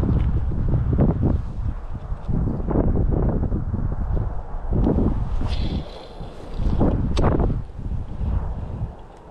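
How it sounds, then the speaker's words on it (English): Strong outdoor wind gusts buffet the microphone in repeated loud rumbling bursts, rising and falling in uneven waves over several seconds, with no talking. "the wind is bad"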